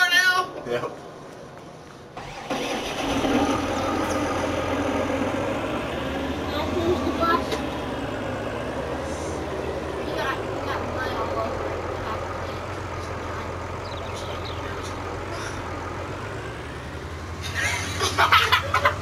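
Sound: tractor engine in Farming Simulator 19 video game

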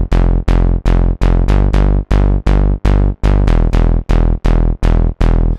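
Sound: noisy Serum bass preset called Born

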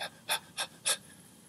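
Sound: storyteller imitating a dog panting

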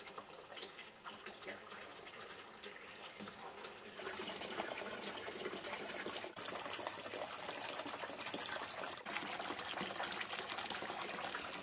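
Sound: water flowing in a hot spring pool

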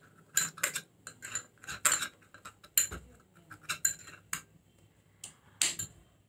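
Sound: mixing an oats face pack in a bowl

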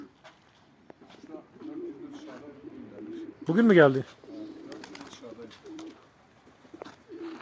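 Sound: pigeons cooing in a loft

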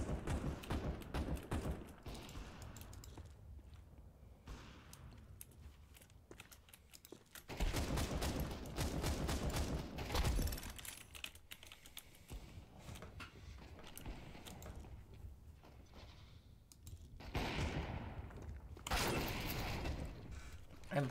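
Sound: gunfire in the video game Counter-Strike 2

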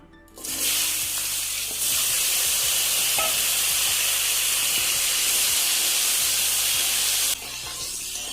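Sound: raw mango pieces frying in a pan

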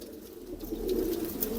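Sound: Pannu pigeons cooing

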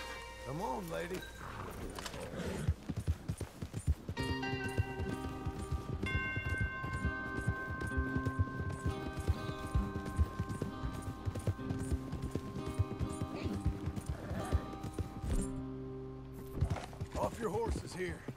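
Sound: horses' hooves clip-clopping

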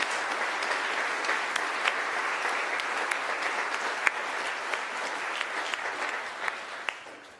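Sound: audience applause

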